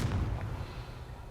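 A Confringo spell blast from a Harry Potter video game hits as a short, muffled boom that fades into a low rumble within a second, fairly quiet overall.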